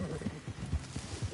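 Horse hooves clopping in Red Dead Redemption on PS5, a quick run of soft, irregular thuds at close range, fairly quiet and over in about a second.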